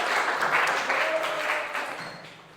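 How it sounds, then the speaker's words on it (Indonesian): A class of children applauds after a group presentation in a classroom, a steady wash of many hands clapping at moderate level that gradually fades toward the end. "Yuk berikan tepuk tangan anak-anak."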